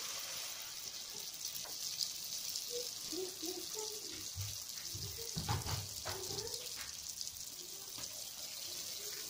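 Snacks fry in hot oil with a faint, steady bubbling hiss, while a voice speaks briefly in the middle and a few soft knocks come through.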